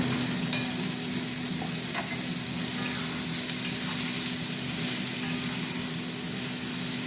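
Vegetables fry in hot oil in a pan, giving a dense, even sizzle that holds steady and fills the whole stretch with faint scattered crackles and a low steady hum beneath, close by and without any voices.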